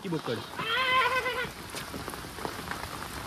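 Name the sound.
goat bleating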